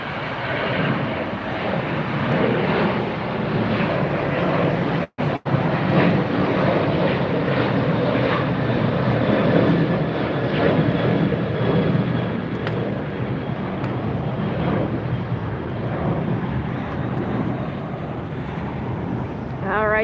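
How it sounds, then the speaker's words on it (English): A propeller military plane takes off on the far side of LAX, giving a broad, steady engine roar with wind noise that stays distant and continuous, with a brief dropout partway through. "I thought I heard a military plane taking off on the far side,"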